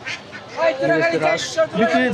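Ducks and geese quack and honk at a rural poultry market in Tongi, Bangladesh, a few close calls mixed with people talking nearby.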